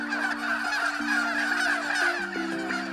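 A group of turkeys calls together, overlapping rapid gobbles and honking notes in a continuous noisy chorus at close range.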